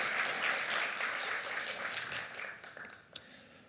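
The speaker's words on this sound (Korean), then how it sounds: "하나님께 다시 한번 박수 올립니다" A church congregation claps together, a fairly faint wash of applause that gradually thins and fades out, ending with a few scattered last claps.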